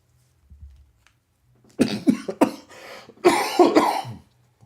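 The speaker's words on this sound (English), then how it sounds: "I'm coughing all of a sudden" A person coughs in two harsh clusters of several rapid, close coughs each, preceded by a faint throat noise, with quiet between the fits.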